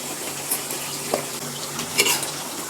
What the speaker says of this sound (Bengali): কেটে রাখা কসুরমুখীগুলো এবার দিয়ে আর একটু কষিয়ে নিচ্ছি।